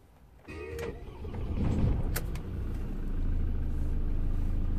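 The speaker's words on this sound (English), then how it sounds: "I'm gonna start the engine so you can see what the problem is." A Ford Transit 2.4 TDCI diesel van engine with MAF sensor faults cranking and catching, then settling into a steady low idle rumble, close by and fairly quiet.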